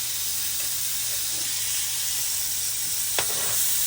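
Steaks sizzle as they cook on a grill, giving a steady hiss that holds through. It is fairly quiet, with one brief sharp pop near the end.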